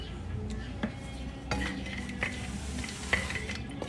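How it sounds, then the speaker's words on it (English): Cashews being roasted in ghee in a pan, with a utensil scraping and clinking against the metal in irregular strokes over a soft, steady sizzle, close and fairly loud. "we're going to cook the cashews until it turns slightly brown"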